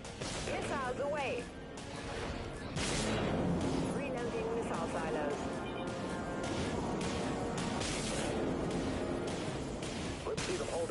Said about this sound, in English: Missiles locked on target. Missiles away.